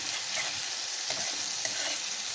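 Crushed garlic paste sizzles in hot oil in a pan, a steady close frying hiss with light stirring scrapes and no voices.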